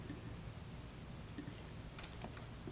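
Typing on a computer keyboard, a faint run of quick key clicks with a short denser burst of taps toward the end, heard alone against a soft room hiss.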